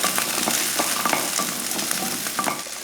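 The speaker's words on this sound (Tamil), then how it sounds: "அது போல் ஒரு 5-6 போல் பூண்டு, இதையும் நல்லா வதக்கிடுவோம்." Small onions and garlic cloves sautéed in a pan for a vegetarian Tamil lunch, giving a continuous close sizzle with quick stirring scrapes throughout.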